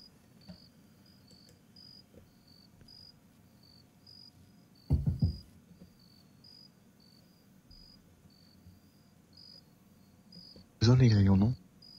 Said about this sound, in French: Les grillons, non?